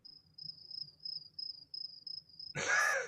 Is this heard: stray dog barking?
no